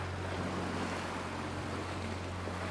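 Water taxi boat moving on the sea off the island of Hydra, a steady low engine drone mixed with continuous wash of waves and light wind rumble.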